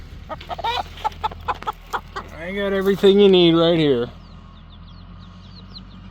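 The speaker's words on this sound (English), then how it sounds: "You thirsty chickens?" Several chickens cluck in short bursts, then one gives a longer drawn-out squawking call, with a person speaking nearby and faint chirps afterward.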